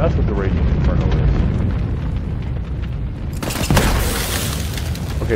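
Fiery effect from the Radiant Inferno weapon in Borderlands 3, a dense roaring, crackling burst with a sharp eruption partway through, mixed under game audio and talk.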